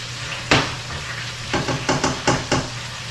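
Flounder frying in a pan with crawfish sauce, a steady close sizzle broken by several sharp scraping stirs of a utensil against the pan, no voices.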